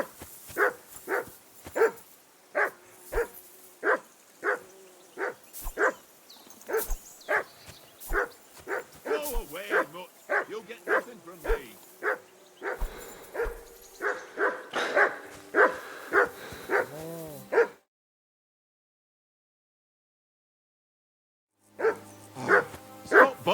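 A dog in the medieval role-playing game Kingdom Come: Deliverance II barks repeatedly in a rhythmic string of sharp woofs, then whimpers and yips. A short silent gap follows before a few more barks, all at moderate volume.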